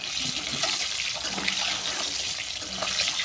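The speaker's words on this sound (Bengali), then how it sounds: "এই তেলের মধ্যে ডিমটাকে হালকা বাদামি করে" An egg fries in hot oil seasoned with turmeric and salt, a steady close sizzle and crackle that continues throughout.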